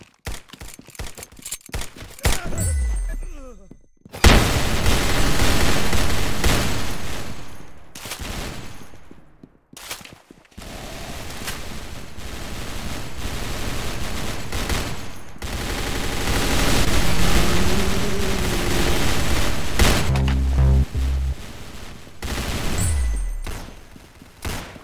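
Gunshots in the Roblox shooter Arsenal: loud bursts of rapid fire broken by short gaps of quiet, with volleys returning repeatedly over about twenty-five seconds.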